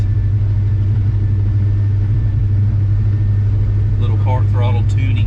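LS V8 engine in a street-tuned car during a test drive: a loud, steady low rumble throughout, with a brief voice rising over it near the end.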